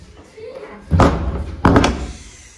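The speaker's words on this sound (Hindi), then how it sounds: "पहले मैं दरवाज़ा बंद कर देती हूँ" A kitchen door being shut in a home, giving two solid thuds about a second apart with short rattling tails, close and fairly loud over faint room noise.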